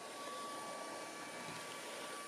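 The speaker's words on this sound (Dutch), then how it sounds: "Dankzij de Smart Inverter motor is de zuigkracht vergelijkbaar met die van modellen met snoer." An LG CordZero VR94070NCAQ cordless vacuum cleaner with a Smart Inverter motor runs steadily, a continuous close whirring hum with a thin high whine and no voices.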